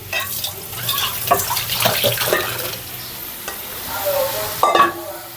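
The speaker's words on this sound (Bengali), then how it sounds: "আমি মাছগুলো একটু কষিয়ে নিয়ে উঠাই রাখবো" Fish being stir-fried in oil in a pan, with repeated stirring clatters and scrapes over a sizzle, close and uneven in rhythm, with no talk.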